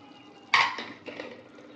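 The lid of a pressure cooker holding macaroni is opened after the pressure is released, giving one sharp metallic clank followed by a softer rattle of metal on metal, close by.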